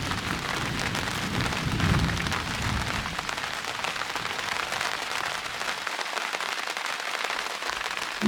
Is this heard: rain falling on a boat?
yes